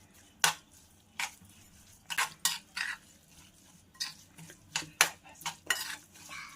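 A spoon stirs thick curd mixed with sugar, ground peanuts and salt in a bowl, giving about a dozen irregular, sharp clinks against the dish, fairly close and quiet between strokes.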